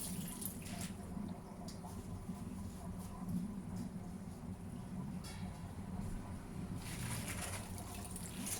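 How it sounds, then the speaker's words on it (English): Water draining from soaking cabbage for kimchi, a steady continuous pour and splash that holds throughout, close and moderately loud. "I'm going to drain the water now"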